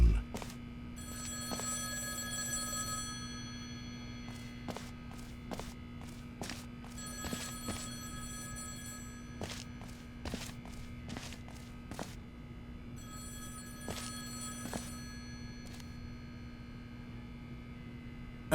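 A telephone rings in The Stanley Parable video game, a loud ringing repeated in regular bursts with short pauses between them. A dull low hum runs underneath.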